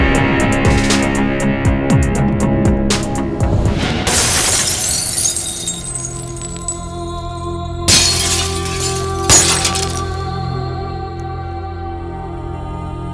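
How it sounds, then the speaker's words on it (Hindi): Loud glass shattering with a sustained crash and tinkling debris, followed by two more sharp breaking impacts, set in a dramatic Hindi film scene. "कांच टूटने की आवाज सुन के"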